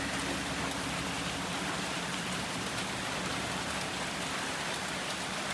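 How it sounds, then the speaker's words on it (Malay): Steady rain pours down on a camping trip in Kundasang, Sabah, a dense continuous hiss spread evenly across the whole stretch with no voices. "Jadi hari ni sekarang tengah hujan."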